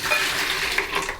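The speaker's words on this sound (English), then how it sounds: "Always pour your water into the mixing bucket first." Water poured into a grout mixing bucket, a steady close splashing fill running without a break.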